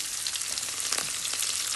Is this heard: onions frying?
yes